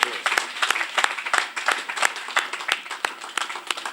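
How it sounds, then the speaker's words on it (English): An audience gives a round of applause at a reunion event for a marathon run, with lively, uneven clapping that rises and falls steadily throughout. "May I call for everybody to give them a round of applause."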